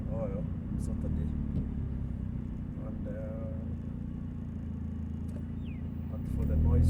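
A 2000 Nissan Altima with an exhaust leak idles with a low, steady rumbling drone that swells near the end, while voices murmur faintly in the background.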